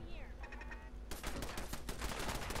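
In Fallout 4, an automated turret opens fire in a rapid, dense burst of gunshots that starts partway through, following a few bleating tones; heard moderately close in a game mix.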